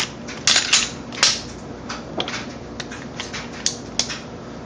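Metal clicks and snaps of a Glock pistol being racked, dry-fired and having its slide pulled off, a few sharp close clacks spread out over quiet handling noise.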